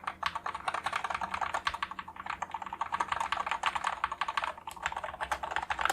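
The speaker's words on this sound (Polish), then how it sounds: "No i sprawdźmy poszczególne klawisze. Spacja, mimo wszystko dość głośna." Keys on a Savio Astral keyboard with magnetic switches are pressed in a fast, continuous stream of clicky clacks, close and fairly quiet, with no voices.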